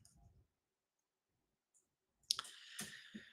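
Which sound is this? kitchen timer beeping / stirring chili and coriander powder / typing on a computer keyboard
typing on a computer keyboard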